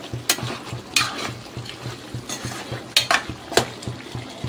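A spoon stirs chicken fry in a pan, giving repeated scraping and clinking strokes against the metal with a faint sizzle beneath, close and fairly loud in uneven bursts.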